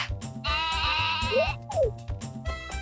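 Sheep in Harvest Moon 64 bleat in short, bright synthesized calls, two distinct bleats with pitch swoops in the middle, set over a bouncy game music loop.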